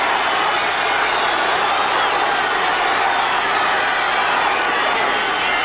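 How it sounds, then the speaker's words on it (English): Football stadium crowd rising to its feet and cheering before a goal-line play at a 1981 Bears–Cowboys Thanksgiving game, a dense, loud, continuous roar with no breaks. "Crowd to its feet."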